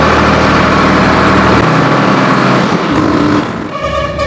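A 2021 Sonalika RX 47 tractor engine running at close range as it is put into reverse gear, a loud steady diesel rumble that dips and shifts near the end.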